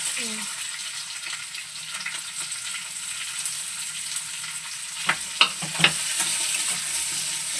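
Chopped onion frying with prawns over a high gas flame for a prawn pulao makes a continuous hissing sizzle. A few sharp clanks of a spatula against the pan come near the end, with no speech over it.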